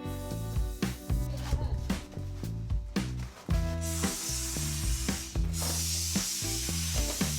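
A steady hiss of spray foam insulation being sprayed inside a shipping container house bursts in and runs on loudly beneath rhythmic music with a strong beat.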